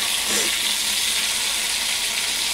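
Bombil (Bombay duck) fish frying in hot oil, a loud, steady hissing sizzle filling the clip without break.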